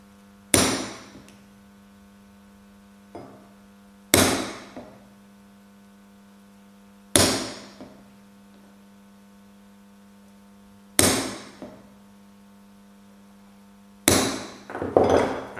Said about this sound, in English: the last thing I'm going to do now is punch for these 6 holes